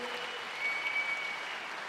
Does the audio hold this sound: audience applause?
yes